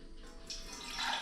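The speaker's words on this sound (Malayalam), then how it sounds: "ഇനി നമുക്കൊരു പാത്രം വെച്ചെടുക്കാം. കുറച്ച് വെള്ളം ഒഴിച്ചു കൊടുക്കാം." Water is poured from a tap into a cooking pot on a stove, a soft, rising stream of running water that grows fuller toward the end, faint and alone without voices.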